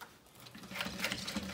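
A sewing machine stitches a handbag lining near a zipper pull end, a short quiet run of rapid stitching that starts after a brief pause and stays close and steady.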